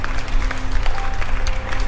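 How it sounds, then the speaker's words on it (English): A room full of people in a courtroom-style gathering bursts into wild applause, loud and dense clapping with scattered sharper claps, close and continuous with no voices. "Half of the room erupts into wild applause."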